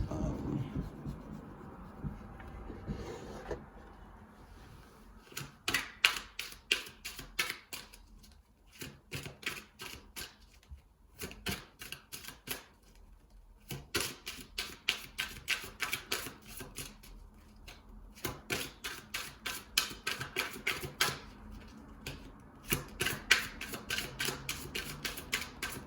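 Tarot cards are shuffled in repeated close riffling bursts, rapid crisp flutters separated by brief pauses and soft handling sounds, with no talking over them.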